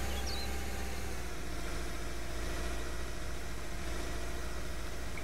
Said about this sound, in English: I don't know if I like the engine noise.